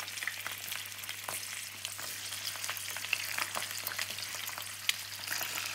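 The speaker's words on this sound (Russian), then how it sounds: "Первым делом обжариваю курочку. У меня уже разогретое масло на сковородке." Chicken thighs laid skin-side down in a single layer in hot oil in a frying pan crackle and sizzle steadily, with a dense spatter of small pops up close.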